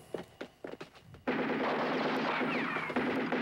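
Movie gunfire with ricocheting bullets: several sharp separate shots, then a dense sustained burst of rapid fire with whining ricochets, loud and close, with no talk.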